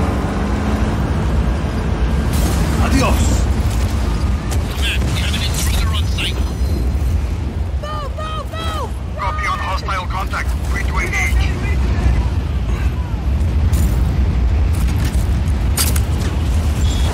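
Heavy booming explosions tear into a wind cannon amid a tornado in Just Cause 4, with loud rumbling blasts, roaring wind and game effects layered under ongoing talk.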